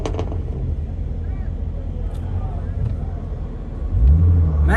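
A BMW M8's engine at the SEMA Ignited parade idles under street noise and talk, then rises into a loud, deep rev near the end.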